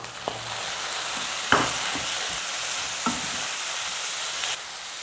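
Tomatoes go into a hot pan for an agathi keerai stew and hiss in a steady sizzle, broken by a few sharp scrapes of stirring from a utensil against the pan.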